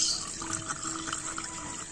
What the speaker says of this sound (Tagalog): sali na natin yung bagong coolant